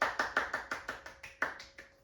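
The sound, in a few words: audience applause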